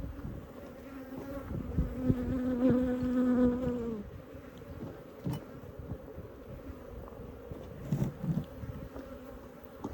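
Africanized honey bees at a hive, gathered on a frame of brood, make a close, droning buzz that swells for a few seconds and then thins to scattered buzzing amid light handling noises.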